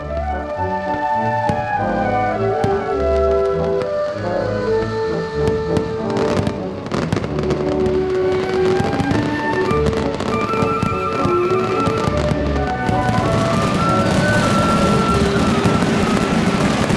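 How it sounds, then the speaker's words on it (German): Fallas festival fireworks in Valencia crackle and bang in dense, overlapping bursts, loud and continuous with sharp reports and rapid crackling building toward the end. "Die Berufspyrotechniker mischen Farben und Klänge in perfekter Harmonie, lassen die Herzen höher schlagen und Valencia in einer einzigen Rauchwolke versinken"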